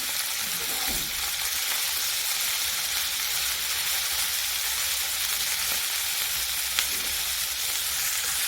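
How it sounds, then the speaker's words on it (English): Cabbage for a cabbage omelet sizzles and fries steadily in a pan, a dense continuous hiss with faint stirring scrapes throughout. "you go on and mix your cabbage up just to make sure it is nicely flavored and sauteed"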